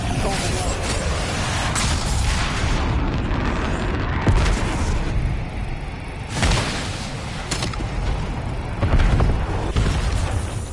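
Heavy booming missile blasts in a Call of Duty match, several deep impacts at intervals over a dense, continuous roar of battle noise, with voices mixed in.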